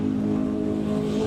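A Renault Clio race car pulling away at the start of a race at Mallory Park, a steady, fairly loud engine drone with a low harmonic hum, heard from a distance with no talk.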